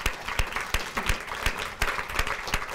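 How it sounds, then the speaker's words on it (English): Applause at a lecture, a modest audience clapping with distinct sharp hand claps standing out over a softer continuous patter, moderately quiet and without talk. "She deserves a big round of applause."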